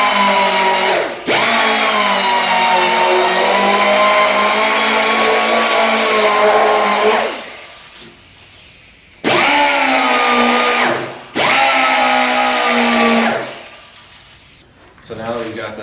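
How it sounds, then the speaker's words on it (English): A right angle grinder fitted with a hook-and-loop sanding pad works a car body panel down to bare metal, a loud steady whine running in long bursts with brief pauses between passes. "I just like using my right angle grinder with the hook and loop sanding attachment."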